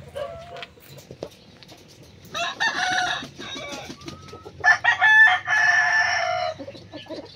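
Hens cluck in short bursts while a rooster crows loudly nearby, with steady farmyard background noise between calls.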